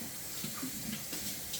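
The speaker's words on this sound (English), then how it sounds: "I'm going to rinse it out with cold water" Cold tap water runs steadily into a bowl as yarn freshly colored with Rit dye is rinsed, a soft continuous splashing hiss with no voices over it.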